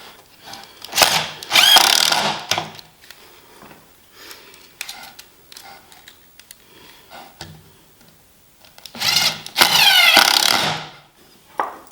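A power drill drives screws to fix a hinge onto the toe kick of a torsion box workbench, giving two loud whirring bursts several seconds apart, close by, with quiet handling noises in between.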